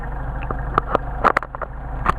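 A Mercedes 190SL engine with freshly adjusted Solex carburetors idles steadily nearby, a low continuous rumble with a few short louder blips and revs scattered through it, no voices.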